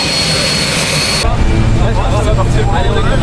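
Loud, steady roar of an airplane engine in flight before a parachute jump, a dense continuous drone close by that shifts in tone partway through and continues unbroken to the end.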